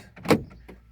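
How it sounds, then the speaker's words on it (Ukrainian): Fiat Doblo central door locks engaging from the driver's door, a short mechanical clunk with a fainter second click after, close up and without talk. "Блокировка дверей с водительской двери всех"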